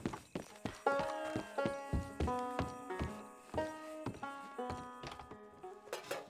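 Horse hooves clip-clopping in Red Dead Redemption II, a steady walking rhythm of distinct, close hoof strikes, each ringing briefly, continuing evenly across the whole stretch.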